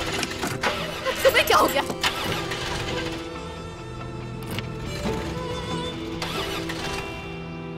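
A car engine cranks and fails to catch, giving repeated grinding starter bursts and a struggling motor hum, while someone speaks over it.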